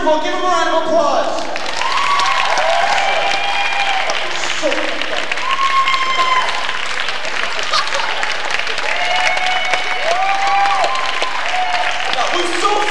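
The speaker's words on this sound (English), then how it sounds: "Give him a round of applause." A nightclub circus audience applauds in a steady, dense wash of clapping that runs the whole stretch, with voices talking and calling out over it.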